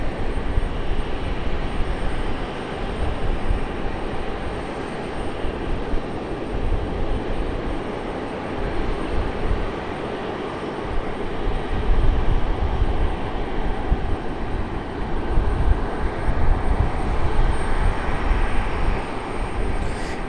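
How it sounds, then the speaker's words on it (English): A United airliner taxis out toward the end of the runway at Raleigh-Durham airport, its engines giving a steady, continuous broadband roar at moderate distance for the whole stretch, with no talking. "United making its way out to the end of the runway there."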